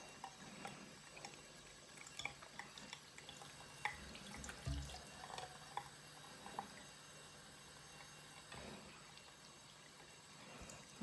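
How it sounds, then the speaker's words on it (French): Running water from a tap used to emulsify and rinse a non-foaming facial cleanser at a bathroom sink, with a steady quiet flow and occasional drips and splashes, no talking. "Et après j'utilise l'eau pour faire émulsionner un petit peu"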